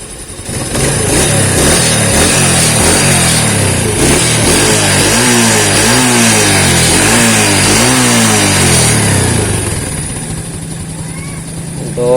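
A Yamaha Vega motorcycle fitted with a Shogun 110 CDI runs loud and close, idling with a rough thrum and rising through several repeated revs before settling back down, with someone speaking over it.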